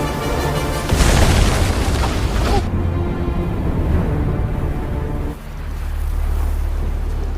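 A big explosion in the film The Ice Road, set on a frozen river, bursts out loud with a heavy broadband blast, rumbles and fades, then leaves a low sustained roar.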